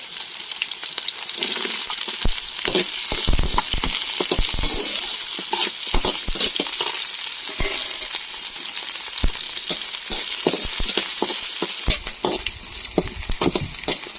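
Onions fry in hot oil with chilli for a village-style chicken curry, giving a steady loud sizzle under scattered clinks and scrapes of stirring that run throughout, with no talking.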